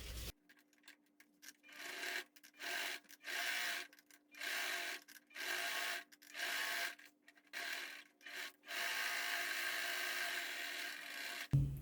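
A domestic sewing machine runs a finishing seam and then a safety seam on a men's toiletry bag. Its whirring bursts start and stop at a regular pace, then settle into one longer steady run, close and clear.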